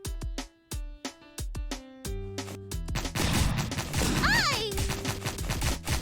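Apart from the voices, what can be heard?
cannons firing in a video game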